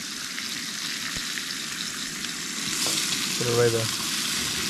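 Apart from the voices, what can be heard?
bacon and sausage frying on a camp stove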